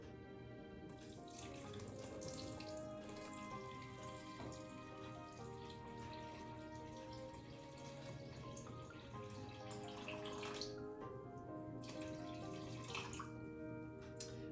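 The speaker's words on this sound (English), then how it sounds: "this is 735 grams of water. I'm going to add all but about 100 grams." Water pours steadily from a container into bread dough ingredients for a long-fermented wheat loaf, a faint, continuous trickle and splash with small drips and no pauses.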